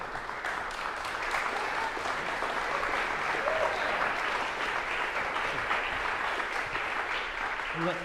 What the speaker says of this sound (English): oh, give him an applause, yeah.